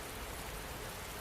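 Rain falls steadily in a soft, even hiss, faint and continuous without distinct drops or pauses.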